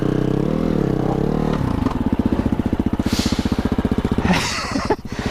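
BMW G 310 GS single-cylinder motorcycle ridden on a UK trail in first gear, its engine pulsing steadily and close up, with a brief rise in revs near the end.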